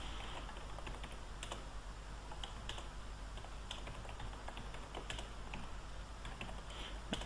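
Quiet typing on a computer keyboard: a steady patter of soft key clicks at an uneven rhythm, close to the microphone, over a low constant hum.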